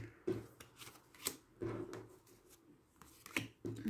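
A deck of tarot cards being cut and handled, a series of soft papery slaps and riffles in an irregular rhythm, close and quiet with no speech.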